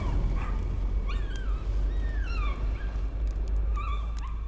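Several dogs bark, yip and whimper in the horror video game Layers of Fear, repeated high yelps scattered across a steady low rumbling background, moderately loud.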